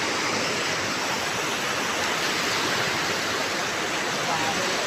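A large river flowing at night, heard as a loud, steady broadband rush of water with no breaks.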